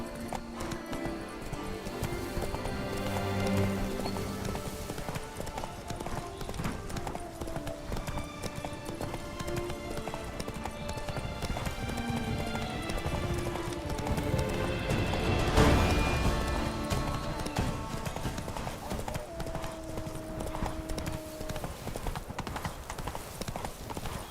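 Horse hooves clip-clop at a gallop in the video game Witcher 3, a continuous rhythmic pounding under game music, with a brief louder crash midway.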